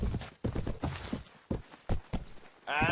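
Horse hooves from the video game Mount and Blade Warband clip-clop in several quick, close bursts separated by short gaps, with a brief louder noise at the end.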